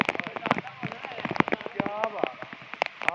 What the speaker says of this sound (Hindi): क्या तेज तेज बारिश हो रही है।